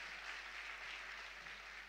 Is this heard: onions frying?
no